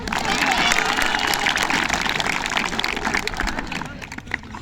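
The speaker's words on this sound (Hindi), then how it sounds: "अरे ताली बजा दो।" Children in a crowd clap and cheer loudly together, a dense wash of applause and excited shouting that holds strong before tapering slightly toward the end.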